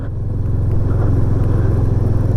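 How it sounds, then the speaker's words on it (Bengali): Motor scooters carrying riders race past on a mountain road, a steady loud engine rumble with low drone holding close throughout, no talking. "দেখো সব স্কুটি নিয়ে কি জোরে জোরে যাচ্ছে"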